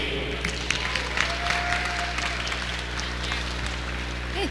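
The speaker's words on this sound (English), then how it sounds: "Give them a round of applause" Round of applause from the crowd at the Bitcamp 2026 hackathon opening ceremony, a continuous wash of clapping with a few sharper claps standing out, carrying on at even strength throughout.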